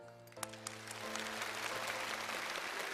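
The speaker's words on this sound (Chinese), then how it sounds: "掌声感谢康老师" Studio audience applause on a Chinese television culture show, a steady dense wash of clapping that swells after a brief lead-in with musical tones fading underneath.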